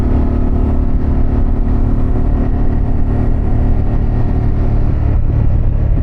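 A Harley-Davidson Pan America with a Vance exhaust rides along with a steady, loud engine drone that never lets up, heard close and with no one talking.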